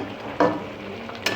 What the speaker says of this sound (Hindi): इस स्टेज पर हम इसमें कुकिंग ऑयल शामिल कर देंगे ताकि वो मसाले और चिकन जो है वो इसमें अच्छी तरह से